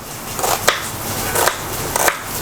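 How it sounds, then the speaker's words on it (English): A knife slices an onion on a board in three slow, separate strokes, each a brief crisp swish. "So I am slicing the onions very small"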